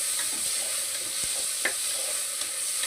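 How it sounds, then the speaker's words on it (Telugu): Chopped tomatoes fry in a pan for mushroom curry with a continuous broadband sizzle. Occasional soft clicks and scrapes of stirring sound over it, with no voices. "టమాటాలు వేసేస్తున్నాం. ఇది కూడా బాగా వేయాలన్నమాట."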